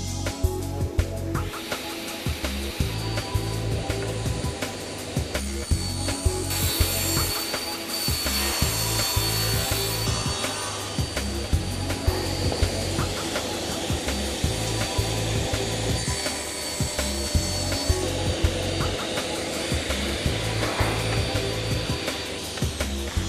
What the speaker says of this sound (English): the first job I need to do is get over to the table saw.